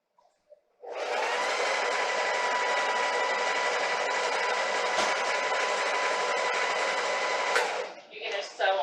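A sewing machine stitches fabric in a steady whirring motor run of about seven seconds that starts abruptly, holds an even pitch, then stops, followed by brief handling noises and a faint voice.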